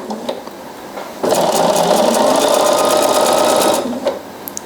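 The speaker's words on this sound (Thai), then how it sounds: "เย็บให้ได้หนึ่งสี่ตลอดแนวแบบนี้ค่ะ" A sewing machine whirs loudly for about two and a half seconds as it stitches two pieces of fabric edge to edge along a straight seam. Quiet handling sounds come before and after.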